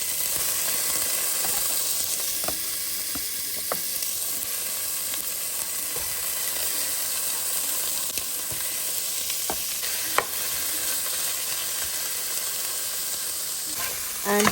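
Chicken stew with tomatoes cooks in a pot, giving a continuous bright sizzling hiss with occasional soft clicks and scrapes of stirring throughout.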